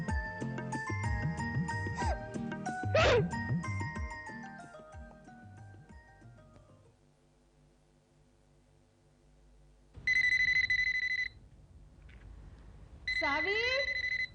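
A telephone rings indoors in a home, two electronic ringing bursts arriving after soft background music fades out, the second overlapped by a voice.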